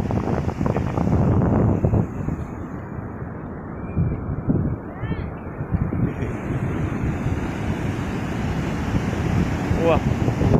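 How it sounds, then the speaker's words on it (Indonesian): Strong ocean waves surge and wash steadily at Keramas beach in Bali, a loud continuous surf roar buffeted by wind noise on the microphone, with brief voices at times. "Padahal ombaknya kencang tuh, seneng dia."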